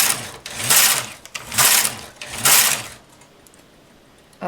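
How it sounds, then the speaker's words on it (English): A Brother knitting machine carriage is pushed across the bed three times in a steady rhythm, each pass a loud close whirring slide, followed by quiet. "Bring them out into hold again and knit 4 rows."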